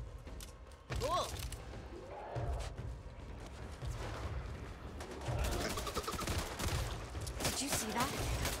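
Rattling turret gunfire in Back 4 Blood, sustained bursts layered with scattered shots and game effects, players talking over the shooting at moderate level.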